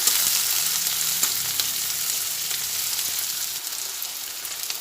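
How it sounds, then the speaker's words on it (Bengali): Chopped onions fry steadily in a hot pan for a home-style dish served with roti or paratha, giving an even, close sizzling hiss with faint scraping, and no talking. "এরপরে পেঁয়াজগুলো অল্প করে ভেজে নেব"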